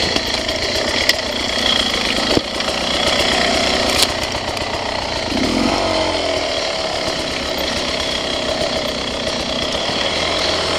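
A 2021 Beta 300RR Race Edition two-stroke dirt bike engine runs close and loud, a steady buzzing idle with a brief blip of throttle partway through, continuous throughout.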